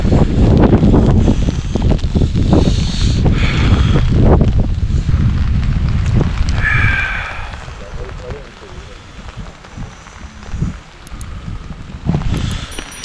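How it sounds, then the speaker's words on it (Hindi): Strong wind blasting through a storm at a mountain basecamp at Ganga Choti, Pakistan, rushing loudly with heavy buffeting at the start, then easing into lighter gusts, with rain falling too. "और अभी भी बहुत तेज़ हवाएं हैं और बारिश हो रही है"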